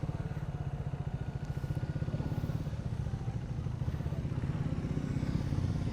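A Triumph Trident 660 motorcycle engine runs steadily nearby during a test ride, with a fast even low pulsing throb and no speech.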